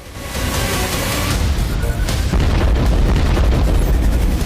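A loud, sustained roaring blast from a truck explosion, with rumbling low end filling the whole stretch, dense and continuous like a big nearby explosion.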